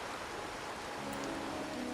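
Steady rain falling in the video game Wuthering Waves, a dense continuous hiss that holds evenly throughout with no voices over it.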